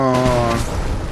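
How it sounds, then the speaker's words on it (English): Fireworks bursting in the video game Fallout 76, a loud booming blast with a ringing, tonal tail that fades over about a second, no talk over it. "Fireworks! Yay! Beautiful!"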